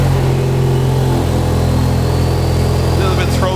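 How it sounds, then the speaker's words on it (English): A Ford Mustang RTR fitted with an X-Force exhaust, valves closed, runs loud and close with a deep steady engine drone and a slight rise in revs near the end. "so we have got the X-Force exhaust on, and we're now going to see if it sounds any different"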